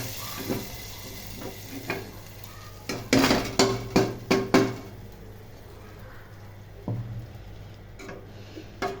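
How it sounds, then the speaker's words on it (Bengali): Fried onion beresta poured from a pan into cooked mashkalai lentil dal in a home kitchen, giving a brief cluster of metallic clinks and scrapes from the utensils midway, then quiet. "এখন আমি এই বেরেস্তাটাকে ডালের ভিতরে ঢেলে দিচ্ছি।"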